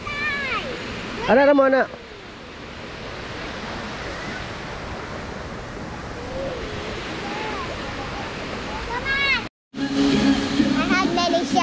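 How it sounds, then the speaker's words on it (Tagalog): Steady broadband rush of a waterfall close to a beach in Lila, Bohol, filling the whole stretch as a constant wash; people talk briefly at the start and again near the end. "May falls dito oh."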